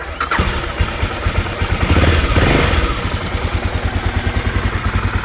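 A Philippe Starck-designed Aprilia Moto 6.5 motorcycle with twin exhausts and 13,040 km on it starts on the button: a quick starter catch, then the engine fires into a loud, close, steadily thumping idle with no talking.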